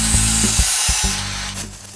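A gouge cutting spinning wood on a lathe while shaping a ring holder, a loud steady hiss of the cut over the motor's hum, broken by a few short scraping strokes.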